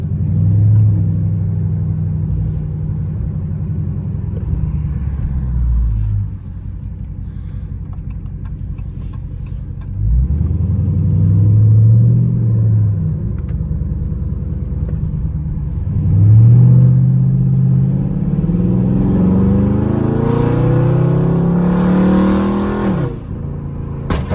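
Dodge Charger Scat Pack engine driving at night, heard from inside the car with a deep, loud rumble that swells in three or four distinct acceleration pulls, easing off between them, with no talk over it.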